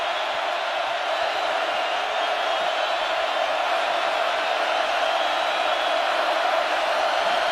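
Loud, steady roar of a big football stadium crowd at a Virginia Tech vs Miami college game, a dense continuous wash of noise with no breaks.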